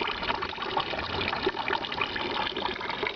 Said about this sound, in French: le robinet ne se ferme pas